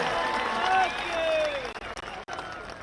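Audience applause at a BJP political rally in India, broad and sustained clapping mixed with crowd noise and voices, cutting out in brief gaps near the end.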